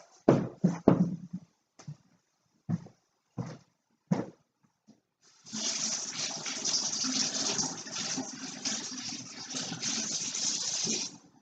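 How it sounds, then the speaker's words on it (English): Water from a tap runs in a steady gush as hands are washed, loud and continuous after a series of short knocks and clatters at the sink. "I'm going to have to wash my hands before I touch anything else."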